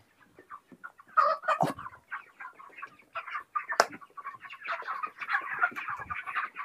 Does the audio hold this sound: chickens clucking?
yes